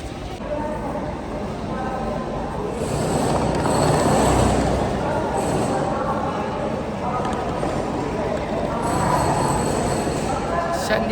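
Loud, continuous rumble at a railway station platform in Chandigarh, with rolling train noise and a busy crowd talking throughout.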